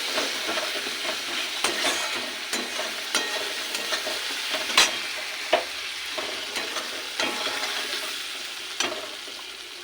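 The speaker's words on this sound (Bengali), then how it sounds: "ফোড়নটাকে ঢেলে দিয়েছি, এবার আরেকটু ফুটিয়ে" Tempering poured into a pot of cauliflower khichuri sets off a steady, close sizzle, with scattered stirring clinks and scrapes punctuating the crackle throughout.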